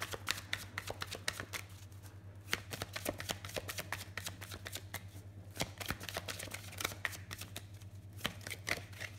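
Tarot cards being shuffled by hand, a steady run of crisp riffling flicks and slaps close up for several seconds, with no one talking.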